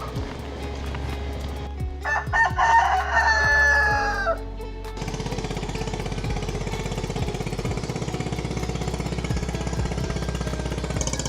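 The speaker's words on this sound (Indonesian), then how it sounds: "banyak banget yang ternak ayam adu atau ayam sabung" A fighting rooster crows loudly nearby on a riverbank, followed by a steady rhythmic boat engine chugging that continues to the end.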